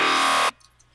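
A dubstep synth bass patch layer sounds as one dense, loud, sustained buzzy tone that holds for about half a second and then cuts off abruptly into near silence.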